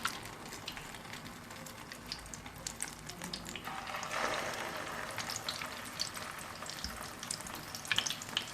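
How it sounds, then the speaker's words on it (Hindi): Beef shami kebabs dipped in beaten egg fry in hot oil, a steady close sizzle and crackle that swells briefly midway, with faint stirring clinks. "इसके अंदर कबाब डिप करके फ्राई करेंगे"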